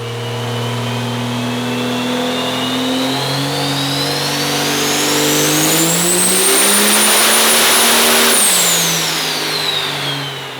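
A 110mm-turbo, nitrous-fed race engine on a dyno screams through a single long, loud pull, its pitch climbing steadily to a sustained peak before dropping off as the throttle closes, with no talking over it.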